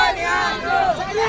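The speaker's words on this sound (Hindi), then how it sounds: "देखिए काफी संख्या में भीड़ उनके साथ मौजूद है।" Large crowd gathered around an arriving political figure at a village home in Uttar Pradesh, a dense continuous murmur of many voices filling the space, with individual shouts rising now and then over the babble.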